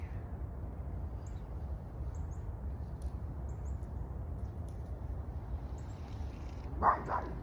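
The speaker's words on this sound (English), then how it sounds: "Romare, will you stop barking?" A single short dog bark rings out near the end against a quiet, steady outdoor hum; otherwise no barking is heard.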